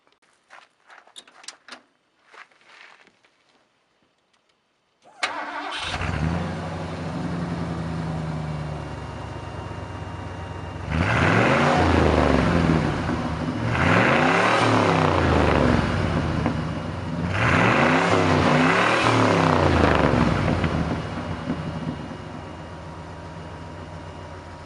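A 1991 Ford F-150 with a 351 Windsor V8 and quiet exhaust starts up, idles, then revs three times to around 4,000–4,500 RPM, each rise and fall a steady, muffled roar close by.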